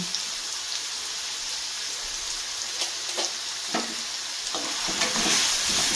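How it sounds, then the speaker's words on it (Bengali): Potatoes frying in hot oil, a dense crackling sizzle like rain that builds slightly toward the end, with a few sharp stirring taps, close and without talk. "আলুগুলো আমি লাল লাল করে ভেজে তুলে নিচ্ছি"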